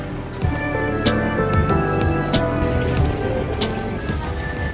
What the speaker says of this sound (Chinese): 下午又下雨了